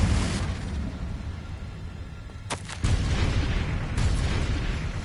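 Blast from the Confringo fire spell in Hogwarts Legacy, a sharp crack followed by a rumbling boom over a steady background of game ambience, with a second softer burst later.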